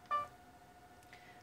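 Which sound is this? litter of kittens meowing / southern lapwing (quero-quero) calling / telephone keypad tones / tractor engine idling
telephone keypad tones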